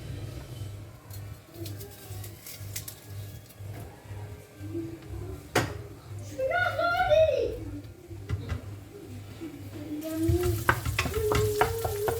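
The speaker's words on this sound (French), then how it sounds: "On va laisser caraméliser l'oignon" Onion cooking and caramelizing in a pan, a low steady sizzle with occasional stirring clatters running beneath someone talking, plus a brief sharp knock midway and busier scraping near the end.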